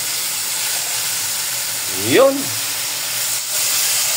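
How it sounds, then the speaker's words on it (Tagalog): Pork with ginger and onion fries in a pan for Nueva Ecija-style tinumis, a steady close sizzle and hiss running throughout, with a brief voice cutting in near the middle. "Prito natin mabuti."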